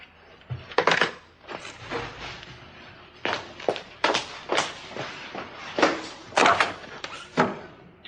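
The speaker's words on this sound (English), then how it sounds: "Somebody's at the door." Someone arrives at a door in an indoor soap-opera scene, heard as a string of irregular knocks and thuds, loud and close, spread across several seconds with short quiet gaps between them.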